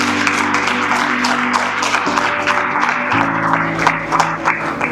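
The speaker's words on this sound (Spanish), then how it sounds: "¿Cuánto le dan un aplauso al Señor por eso?" Church congregation applauding during a sermon, steady close clapping over a sustained low organ or keyboard chord that shifts pitch partway through.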